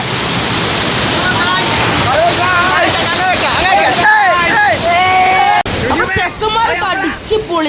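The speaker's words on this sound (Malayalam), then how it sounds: "ഇങ്ങനെ അടിപൊളി വെള്ളച്ചാട്ടം ഇങ്ങനെ ഒഴുകിക്കൊണ്ടേക്കാം" Vettuthodu waterfall at Kadampuzha roars in a constant, dense wash of rushing water close by, while people talk loudly over the continuous flow throughout.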